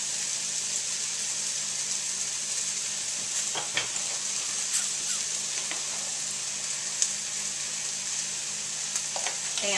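Onions frying in a pan while a chuck roast is being prepared, a loud, steady sizzle with occasional crackles and small clatters of stirring, close up and with no talking.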